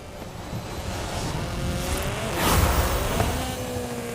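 Engine of an off-road Mazda Miata body kit car in Forza Horizon 5, a steady droning hum that swells briefly louder midway as it revs, with no talk.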